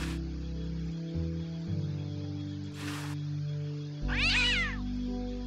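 A cat meows in the adventure game Day of the Tentacle, one clear rising-and-falling meow standing out over steady game music, with a short burst of noise just before it.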